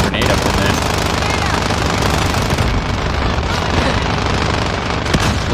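Grenade blast in Modern Warfare Ground War, set within a dense, continuous wash of gunfire and battle noise that stays loud throughout, with a voice talking over it.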